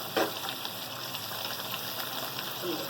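White cumin seeds sizzle in hot oil for tomato chutney, a steady close hiss with a brief louder crackle at the start and no talking.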